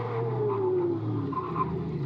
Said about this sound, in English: Ooh, listen to the tyres squeal.